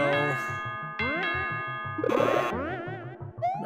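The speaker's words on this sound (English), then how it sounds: "I'm not sure what these bells are." Bright chiming bells ring out in Super Mario Maker, a series of quick stacked tones over a bouncy game soundtrack, with a burst of chirpy effects partway through.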